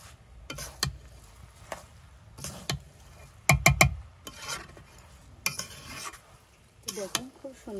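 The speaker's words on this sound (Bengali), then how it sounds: "দেখুন খুব সুন্দর করে নাড়াচাড়া করে নিচ্ছি" Biryani stirred in a wok: intermittent scraping and sharp metallic clinks of a spoon against the pan, a few quick knocks in a cluster, over a faint low sizzle.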